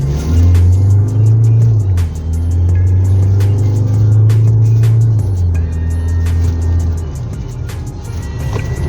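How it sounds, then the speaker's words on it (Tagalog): A 2025 Mazda BT-50 4WD pickup accelerating gently on a test drive, with a loud, steady low engine drone heard from inside the cab that rises and settles in pitch alongside faint clicks and rattles. "Tapos, bigyan lang natin onting-onting acceleration."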